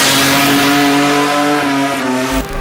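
A turbocharged Toyota drift car, built from an NA5 setup, holds a loud close-up high rev with a buzzing, harmonic-rich engine tone that dips slightly near the end.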